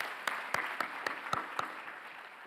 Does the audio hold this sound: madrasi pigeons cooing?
no